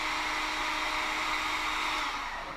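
A heat gun shrinking heat-shrink tubing onto wire during a boat bilge pump install: a steady, fairly loud blowing roar that runs the whole time without a break.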